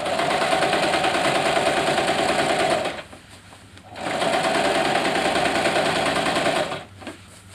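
A sewing machine stitches fabric for a horseless carriage top in steady close bursts, running about three seconds, pausing briefly, then running again for nearly three more before a short final burst.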